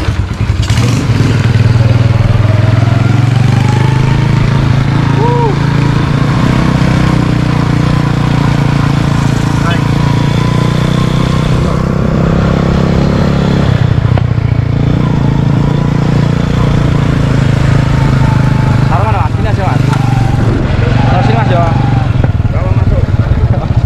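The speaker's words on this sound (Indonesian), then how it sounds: "Oke, motornya ngeri banget." A motorcycle engine runs loud and close for the whole stretch, a steady low rumble with shifting revs and occasional clatter, while voices talk faintly over it.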